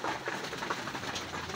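Racing pigeons feeding in a loft, a dense continuous clatter of pecking at grain with some soft cooing mixed in, close and fairly loud, no speech.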